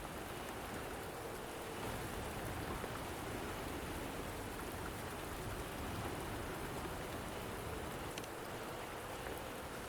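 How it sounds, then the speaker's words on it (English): Steady rain in the video game Wuthering Waves, a quiet, even hiss of falling drops and patter on surfaces that continues unbroken with no other sounds. "Don't worry, the rain won't last much longer."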